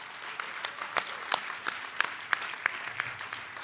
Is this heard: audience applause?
yes